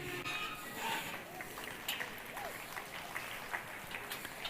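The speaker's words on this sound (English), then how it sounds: "Oh, you can clap louder than that." Audience at a live horsemanship event claps steadily, a continuous mid-level wash of many hands heard at some distance in a reverberant space.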